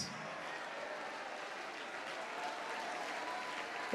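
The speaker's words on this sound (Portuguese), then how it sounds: "vamos aplaudir, vamos glorificar mais" Steady applause from a congregation at a church worship service, a broad even wash of clapping holding at moderate level throughout, with no voices standing out.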